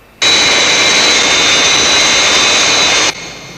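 A large jet aircraft's engines roar loud and close as it comes in toward a short runway, a sudden steady blast lasting about three seconds before cutting off abruptly.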